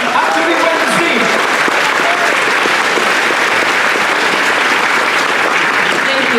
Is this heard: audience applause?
yes